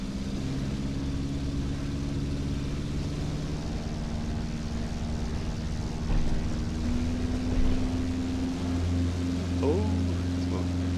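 Airbus A320 in the X-Plane 11 flight simulator powering up for takeoff, a steady droning engine hum that holds throughout and swells slightly near the end as thrust builds.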